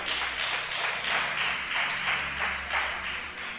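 A church congregation applauding during a sermon, a dense, steady wash of many hands clapping together for several seconds, fairly close and without speech.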